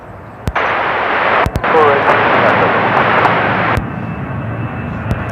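A Delta heavy jet airliner takes off from runway 34 right at Seattle-Tacoma International Airport, a loud broadband engine roar swelling then easing, with radio chatter and sharp clicks over it.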